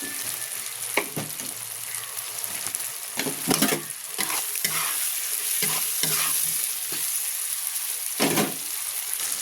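Tomatoes with salt frying in a pan as a spoon stirs them, giving a steady close sizzle broken by repeated scraping, clattering strokes against the pan, with no talking.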